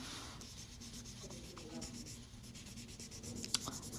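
Watercolor paint being wiped off a press-on nail, a faint, steady rubbing and scraping texture with a small sharp tick near the end, quiet and close.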